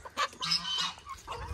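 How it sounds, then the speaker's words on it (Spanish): Chickens cluck and murmur nearby in a farmyard coop, soft overlapping clucks and short calls, fairly faint, with no talking. "Ahí están mis gallinas."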